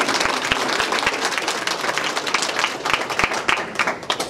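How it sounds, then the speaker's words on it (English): Audience applause at a Digital Nest ribbon cutting ceremony, steady dense clapping from a room full of people, fairly loud and sustained with a few sharper individual claps standing out. "So round of applause for you guys."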